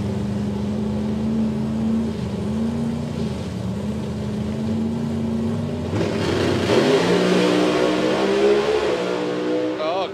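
A consistent 6.2-second drag racing door car launches down the strip, its engine droning steadily before surging into a loud, rising rev that climbs in pitch toward the end.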